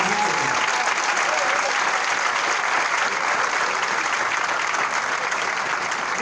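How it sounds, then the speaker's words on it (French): A crowd applauds warmly at an opposition political gathering, a steady dense wash of clapping that holds at an even, loud level throughout with no talk over it. "vous devriez tous applaudir chaleureusement à maman Rosine"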